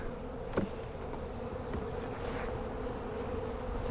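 A dense, steady hum of many honey bees buzzing together in an open hive, close and continuous, with a few individual insects droning slightly louder as they pass.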